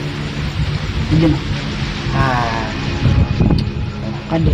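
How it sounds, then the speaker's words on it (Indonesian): Steady rain falls at night outdoors, a dense continuous hiss filling the background while people talk over it close by. "di sini hujan ya, mungkin suara saya nggak terlalu kedengaran."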